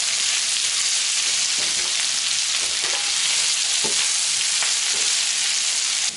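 Onion mixture for tartiflette frying in a pan, a steady loud sizzle throughout with a few light scrapes of stirring and no talking.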